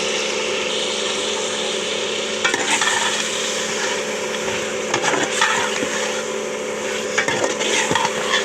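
Mutton frying in a pot as it is stirred, a steady loud sizzle with intermittent scraping stir strokes around 2.5, 5 and 7.5 seconds, no voices.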